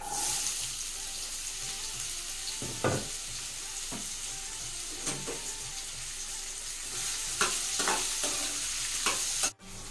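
Raw mango being stirred into ground masala of seeds, coconut, poppy seeds and sesame in a hot pan, with a steady sizzle under scraping spoon strokes and a few sharper clinks, near and without voices.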